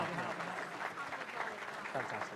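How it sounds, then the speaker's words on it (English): Applause from guests at a charity fundraising gala dinner in Toronto, faint and distant, a short continuous patter of clapping under a voice. "round of applause"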